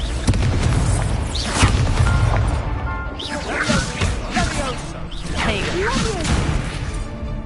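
Confringo blasting spells go off in Hogwarts Legacy, a busy series of loud crashing booms and whooshing spell sweeps that repeat across the whole stretch of combat, with other spell effects mixed in.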